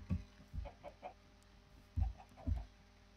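Soft, clipped video game chicken clucks come in short bursts of two or three, fairly quiet, with a faint background hum and no speech.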